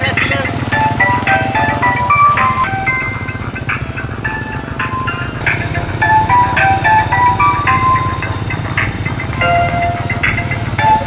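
Ice cream motorcycle in Malaysia looping its chiming jingle melody loudly over a steady idling engine rumble, close by, with voices talking under it.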